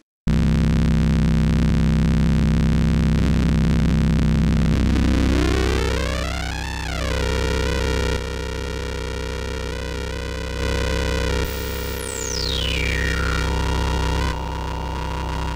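A sustained tone from the fraAngelico digital synthesizer over a steady low hum, its pitch sweeping upward and back down as knobs are turned, then a bright falling glide as the timbre is reshaped.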